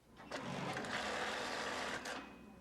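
A sewing machine in a Two Harbors sewing shop runs in one steady, fairly loud burst of about two seconds, with a rapid mechanical whir that starts and stops abruptly.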